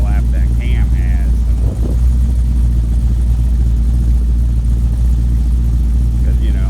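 A V8 fitted with an Elgin 1838P 216/220 camshaft idles steadily at about 800 RPM, a loud, continuous low rumble that stays even throughout, with brief voices at the start and end.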